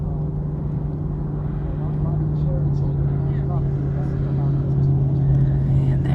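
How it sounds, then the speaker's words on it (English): Steady road traffic rumbles through a roadside scene in Quartzsite, Arizona, a constant low engine drone with a sustained hum that swells slightly toward the end, with no distinct single pass standing out. "And there's a lot of traffic down here."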